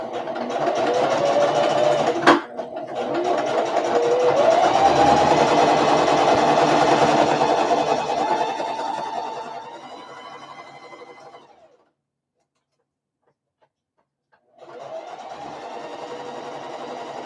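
A sewing machine runs steadily for about ten seconds stitching two fabric bag pieces together, winds down into a few seconds of silence, then starts up again.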